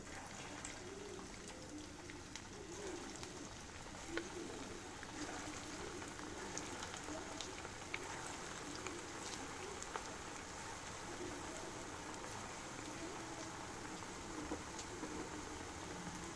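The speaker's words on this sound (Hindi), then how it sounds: "अब हम इसको डीप फ्राई करेंगे। तेल गरम हो चुका है, अब हम एक एक करके इसको डालेंगे।" Potato and cauliflower kofta balls deep frying in hot oil, an even, faint hissing bubble that holds steady throughout with a few tiny pops.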